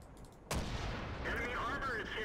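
A tank cannon fires in the World of Tanks video game, one sudden heavy boom followed by rumbling battle noise and whining sound effects, with no talk.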